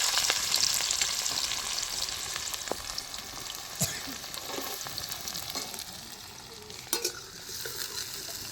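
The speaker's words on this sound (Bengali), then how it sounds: "ফোড়নটা হয়ে গেছে, পেঁয়াজ দিয়ে দিচ্ছি প্রথমে।" Onions sizzling and frying in hot oil after whole spices are tempered, for a chicken and jackfruit curry; a steady, close crackle with occasional stirring clicks of a spoon against the pan, no voices.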